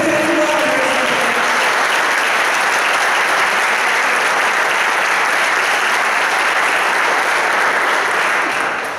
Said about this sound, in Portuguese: levanta a sua mão para o céu e dá um aplauso para Jesus